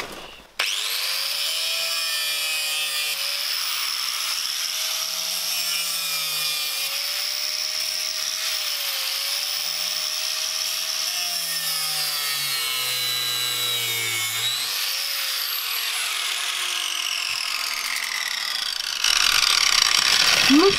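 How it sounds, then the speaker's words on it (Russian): An angle grinder cuts through wooden wall paneling on an old building extension, a steady high whine held for about fifteen seconds with shifting pitch as the blade bites, close and loud. "Все меняется, когда приходит Тёма с болгаркой"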